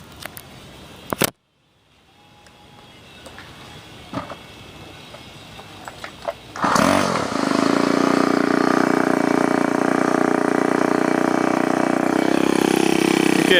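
A Ryobi S430 four-stroke string trimmer starts up after a few clicks and handling knocks, then settles into a loud, steady idle that runs on without speech.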